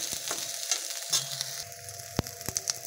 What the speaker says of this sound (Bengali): মূলোটা না ভাজলেও হতো, তো আমি অল্প একটু ভেজে নিচ্ছি।